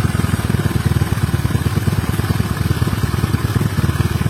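A Honda Vario 150 motorcycle engine keeps running with a cable unplugged, a loud, close, steady idle with a fast even pulsing chug and slight clatter, no talking.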